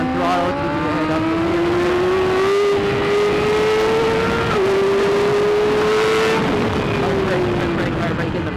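A BMW S1000RR superbike on throttle at Barber racetrack gives a loud, continuous high engine whine that climbs steadily and briefly dips during a shift, heard up close from onboard, with speech picked up over it.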